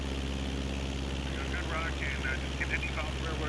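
A light aircraft engine drones steadily in Microsoft Flight Simulator 2020 on a VFR flight into Oshkosh via the FISK arrival. The close, constant hum runs under intermittent talking.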